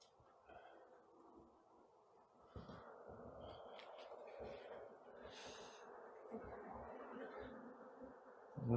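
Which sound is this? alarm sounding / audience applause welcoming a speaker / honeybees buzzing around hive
honeybees buzzing around hive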